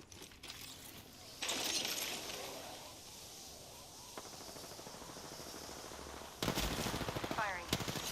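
Automatic gunfire in the video game Apex Legends, with loud rapid bursts at the start and again near the end, and a softer stretch of rattling fire and game effects between them.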